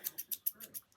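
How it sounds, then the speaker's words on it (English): Small yarn shears snipping several times in quick succession, a series of light, crisp metallic cuts about every eighth of a second, close and quiet with no talking. "this as well, which is the shears. Little snippy snips."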